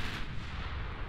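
Naval artillery in Ultimate Admiral Dreadnoughts, ships pounding enemy vessels: a brief low rumbling boom, distant and fairly faint, with no voices.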